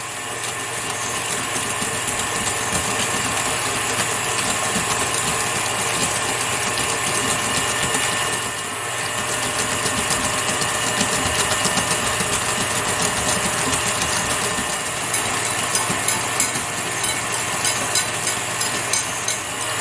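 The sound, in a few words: electric mixer whisking egg yolks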